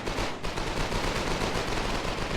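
Dense, continuous automatic fire from many submachine guns in the war game Foxhole, a loud unbroken rattle of overlapping shots lasting the whole stretch with a brief dip near the start.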